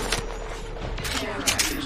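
Rapid gunfire from the online battle-royale shooter Apex Legends, a dense crackle of shots with brief louder bursts near the middle and end, running under a game voice.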